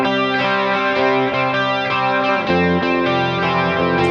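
Distorted electric guitar with chorus effect plays the intro of a punk cover of a pop song, steady chugging notes with regular accents over about four seconds, loud and alone with no voices.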